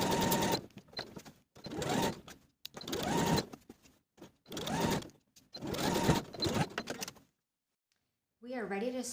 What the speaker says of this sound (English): take them to your machine and sew the side and bottom edges using an 1/8 inch seam allowance